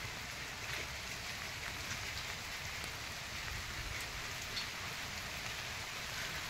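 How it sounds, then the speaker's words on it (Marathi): Steady rain falls over a golden custard apple orchard heavy with fruit, a dense even hiss of drops on leaves and ground throughout, with no voices. "पाऊस सारखा चालू आहे"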